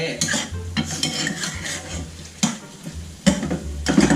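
Squid stir-frying with holy basil in a pan, a loud close sizzle under repeated clanking, scraping strokes of a spatula against the metal, arriving in irregular bursts with no talking.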